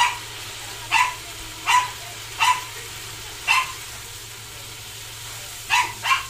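A dog barks in short, sharp yaps at irregular intervals, about eight times, slightly distant over a low steady background hum.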